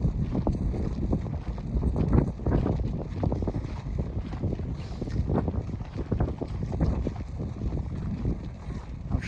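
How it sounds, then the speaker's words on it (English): Strong wind on the summit trail of Mt. Snowdon blasts steadily and loudly across the microphone, a continuous rough rumble with gusty buffeting and no voices. "It's getting really windy."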